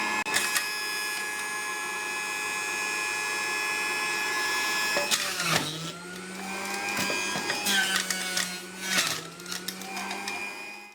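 A home juicer presses fruit and separates the seeds from the juice, giving a loud steady motor whine that shifts to a lower, labouring grind with creaks and knocks as the fruit is pushed through.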